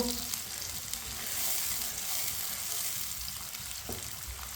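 Chopped carrots and finely cut tomato sizzle steadily in a hot pan as a spoon stirs them, a continuous close crackling hiss with faint scraping of the spoon now and then.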